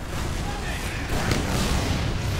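Weapon fire and explosive blasts ring out in a Team Fortress 2 match on the map cp_process_final, a dense rumbling barrage that swells partway through and stays loud and continuous.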